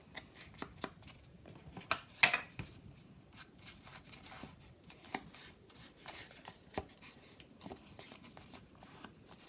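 Paper being torn off by hand while making a vintage ephemera tag in a craft session, a series of faint, quiet ripping and crinkling sounds with sharp little bursts, close and alone.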